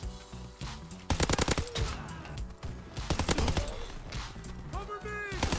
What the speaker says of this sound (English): we have my favorite SMG, the Austin